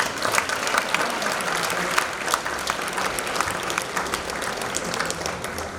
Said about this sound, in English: another round of applause for the graduates